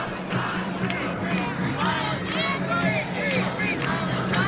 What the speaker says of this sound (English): What's the crowd chanting now?